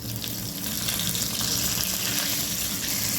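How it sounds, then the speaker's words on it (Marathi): A few spoonfuls of water hit a hot tempering of mustard seeds, asafoetida and curry leaves for dal-rice dhokla, producing a loud, continuous close-up hiss and sizzle on low heat. "याच्यामध्ये थोडंसं पाणी टाकूया."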